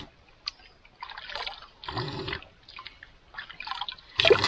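Cooled water is drunk up close in a wilderness survival setting, heard as several separate wet gulping and sloshing bursts with quiet pauses between them.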